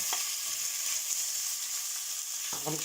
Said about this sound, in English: I'm going to add the pork in and brown it up.